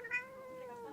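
A cat gives one short, clear meow up close, rising then trailing off, with no talk over it.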